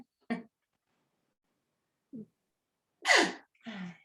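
A single sharp sneeze bursts out in a quiet room, surrounded by a few soft breaths and small vocal sounds.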